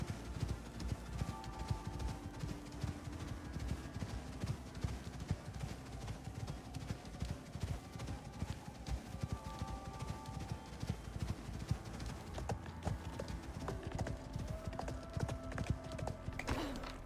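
A horse's hooves clip-clop steadily in the game Icarus, a continuous rhythmic clatter over a busy mechanical background, with a brief spoken remark near the end.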